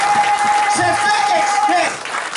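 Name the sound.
church congregation applause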